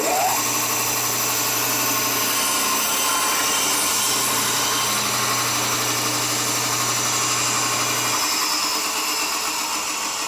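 A Vevor electric bone saw runs steadily while cutting, a continuous motor whine and grinding drone that stays loud and close for about eight seconds before its hum drops away.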